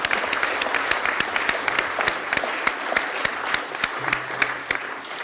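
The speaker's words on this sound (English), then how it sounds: "I was supposed to have asked you for a round of applause" Applause fills a council chamber at an annual full council meeting, steady clapping from a seated group of councillors, mid-distance and even, with a faint murmur underneath.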